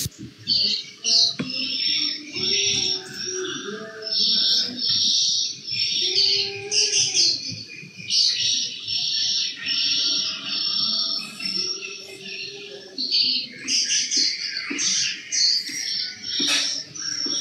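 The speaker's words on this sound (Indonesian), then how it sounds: "banyak suara burung di mana ya?" Busy bird chatter with many overlapping chirps and tweets, continuous and fairly close, with some low voices or cooing underneath.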